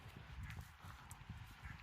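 Horses on Canwick Hill give faint, uneven hoof thuds on the ground, heard at a distance beneath low outdoor rumble.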